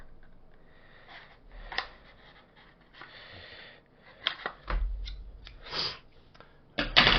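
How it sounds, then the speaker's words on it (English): An oversized pair of scissors snipping open the plastic wrap of a KeyForge Winds of Exchange promo card deck. Scattered close, sharp clicks and snips come in uneven bursts against a quiet room. "Way too big a pair of scissors for what I need"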